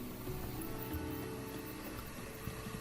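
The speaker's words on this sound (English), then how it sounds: "I use a center drill to start a 3mm hole." A small lathe center drills a 3mm hole into 10mm aluminum, its underpowered motor straining. The result is a steady, continuous mechanical drone with faint tonal whine throughout, with no talking.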